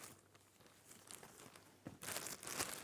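Soft crinkling of a plastic Urban Outfitters shopping bag, quiet at first, then louder rustling bursts as it is handled up close.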